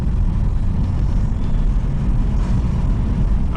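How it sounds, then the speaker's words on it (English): Turbocharged SAAB car engine running loud and steady, a dense low rumble with broadband turbo whoosh held evenly throughout, no speech. "Oh, this car sounds so good. I just love turbo sounds."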